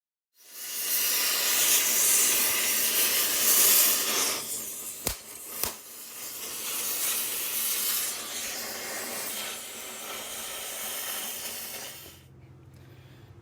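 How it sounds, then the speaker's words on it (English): Penetrating oil sprays from a can onto the upper control arm bolts of a 2000 Nissan Frontier in one long, steady, close hiss lasting several seconds, broken by two sharp clicks midway before it tapers off. "I might spray some penetrating oil in here to help with things"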